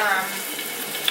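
Chicken and turkey meatballs browning in a pan sprayed with oil give a steady, close, even sizzle that holds throughout, with no talking.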